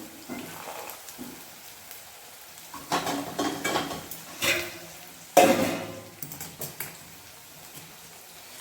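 Roasted peanuts being stirred into spiced masala in a cooking pan, with scraping, rustling bursts of spoon-on-pan stirring over a soft sizzle, several louder strokes in the middle, close and without talk.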